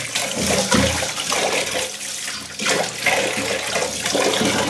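Rice being washed by hand in water, irregular sloshing and splashing bursts close by, with no talking.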